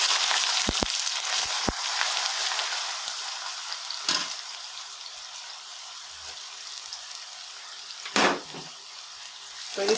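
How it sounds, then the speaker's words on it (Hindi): Onions frying in a pan for kadhi pakora give a steady, close sizzle and hiss throughout, with a few sharp clinks and brief scrapes of stirring. "प्याज फ्राई करने लगे हैं।"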